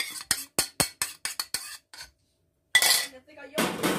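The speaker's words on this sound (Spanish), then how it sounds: "Vamos a revolver bien." A utensil stirs a cotija cheese patty mixture with beaten eggs in a bowl, giving a quick run of sharp metallic clinks, then a pause and some rougher scraping and clattering.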